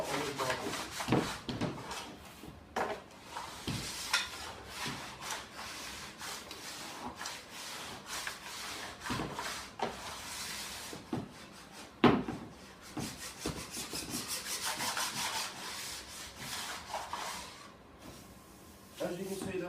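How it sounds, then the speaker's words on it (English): An edger scraping old wax off a snowboard base in repeated rough rubbing strokes at a steady pace, fairly quiet and close. "push that, scrape all the wax off the bottom of my board"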